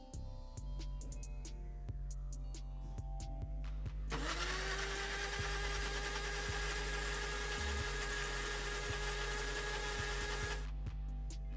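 A mixer grinder whirs loudly for about six seconds, blending cooled broccoli and carrot soup with water in a grinding jar, its motor starting with a rising whine and holding a steady roar before cutting off.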